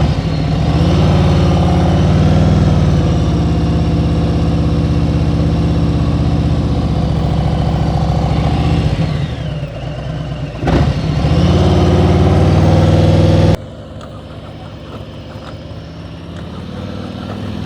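Motorcycle engine at steady throttle during slow-speed riding practice, a continuous close hum that dips briefly near the middle, then drops to a quieter idle for the last few seconds.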